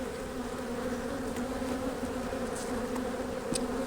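Honeybees buzz over a hive frame during a spring hive rotation, a steady close drone of many wings with a few faint clicks and taps.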